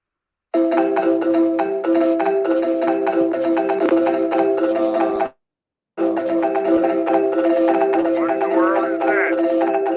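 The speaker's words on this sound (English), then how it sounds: "that's my phone" A mobile phone ringtone plays a loud, continuous melodic tune during a phone call. The tune breaks off for a moment and then starts again.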